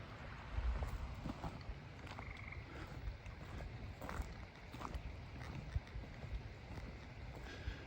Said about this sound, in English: Hearing frogs.